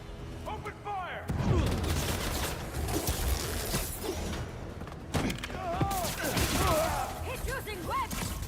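Gunfire bursts and crashing impacts erupt during a combat scene in the video game Marvel's Spider-Man 2, loud and dense, with shouted voices and whooshing effects mixed throughout.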